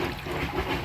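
Water being poured into a clear glass, a steady close trickle and splash running throughout the short moment with no talk over it.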